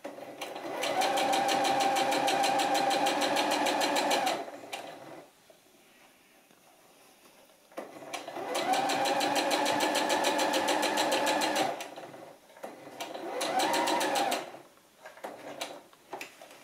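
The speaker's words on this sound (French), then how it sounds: "ensuite on va venir coudre à la machine cette pince." A sewing machine stitches a dart on a pair of trousers in three loud, steady bursts of rapid mechanical chatter, separated by quiet pauses for repositioning the fabric.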